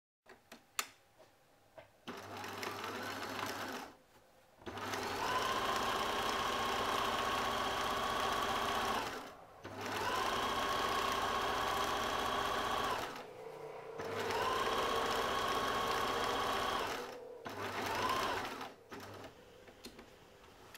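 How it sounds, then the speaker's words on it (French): A sewing machine stitches the edge of a lined fabric baguette bag in three long, steady runs of several seconds each, separated by short pauses, close and fairly loud with no talking. "Il nous reste plus qu'une petite couture à faire sur le bord ici."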